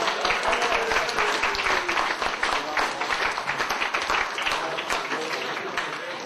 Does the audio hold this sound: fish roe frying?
no